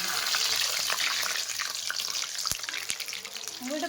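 Fish pieces frying in hot oil give a steady, close hiss of crackling and bubbling, with a couple of sharp pops near the end.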